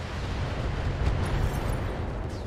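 Missile barrage from Battletech pounding a mech: a dense, continuous rumble of overlapping blasts, loud and low-heavy, with a slightly stronger burst midway and no talk.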